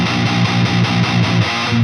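Electric guitar through a Granophyre amp plugin on its high gain distortion setting, a thick, saturated riff of chugging palm-muted notes in a steady rhythm, loud and close with no talking.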